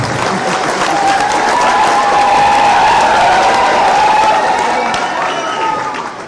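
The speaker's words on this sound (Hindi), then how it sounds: "विधायक जी के लिए भी ताली बजाओ" A crowd at a political victory rally claps loudly and continuously, with cheering voices mixed into the dense applause, fading slightly toward the end.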